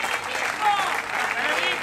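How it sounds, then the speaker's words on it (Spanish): Crowd clapping for young performers at a municipal cultural event, sustained and fairly loud, with voices faintly mixed into the applause. "vamos a pedir un fuerte aplauso para los chicos"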